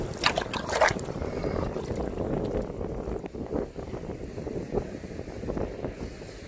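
Strong wind blowing outdoors on a riverside during stone hunting, a rough continuous rumble buffeting the microphone with a few brief gusty bursts near the start, fairly close and unaccompanied by talk.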